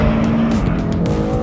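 A BMW race car launches hard off the line in a roll-start drag race, its engine roaring loud and close in one steady, strained burst with a hint of tire noise.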